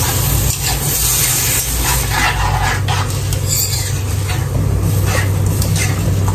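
Chicken afritada with tomato paste is stirred in a pan, giving a continuous scraping, bubbling sizzle with a low steady hum underneath, close and fairly loud with no talking.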